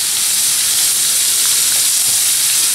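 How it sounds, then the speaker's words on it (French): Chopped garlic and shallot fry in a hot pan with a loud, steady hiss and crackle that holds evenly throughout, with no voices. "je laisse revenir tout ça jusqu'à ce que les deux soient translucides pendant 2 à 3 minutes"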